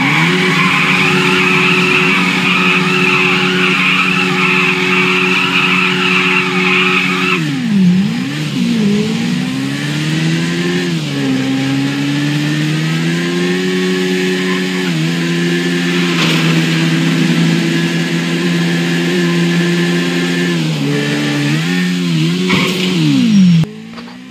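A motorbike in a driving video game revs hard toward about 180 km/h, its loud buzzing engine tone rising and dipping with gear shifts, while tire skids and squeals cut in now and then over the continuous drone.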